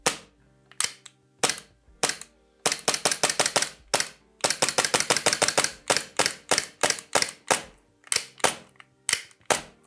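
SRC Glock 17 Gen.5 CO2 gas blowback airsoft pistol firing, sharp loud cracking shots in single reports and fast rapid strings, close and alone with no talk.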